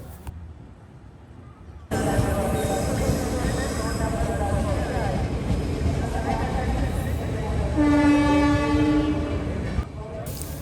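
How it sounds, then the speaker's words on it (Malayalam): A loud, sustained train horn on the Swarnajayanthi Express in Tamil Nadu blares for about two seconds over the steady rumble and clatter of the passing train, with voices faintly underneath. "ട്രെയിനിൻ്റെ ഹോണടി കെട്ടില്ലേ"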